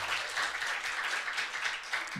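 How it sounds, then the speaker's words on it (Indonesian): Concert audience applauding after a song, a steady, dense wash of clapping at moderate distance that holds for about two seconds without speech. "Tepuk tangan"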